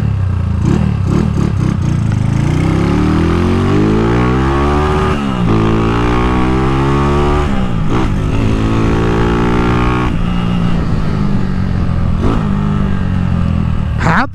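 A Honda Titan motorcycle engine revs hard again and again, its loud buzzing pitch sweeping up and falling back between throttle blips, close by with a slight mechanical clatter and no talking.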